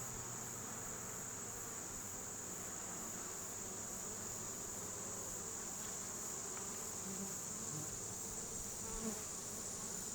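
Honey bees hum in an open hive during an inspection of a frame with no brood and the queen visible, making a dense, continuous, fairly faint drone that holds steady throughout with no voices.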